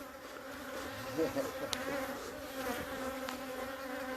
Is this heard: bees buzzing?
yes